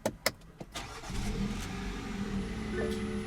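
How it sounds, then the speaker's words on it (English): A few clicks and a brief starter whir, then a 2016 BMW X1's 2-liter turbo four-cylinder engine catches and settles into a steady idle hum. "what you're hearing there is a 2-liter turbo 4-cylinder"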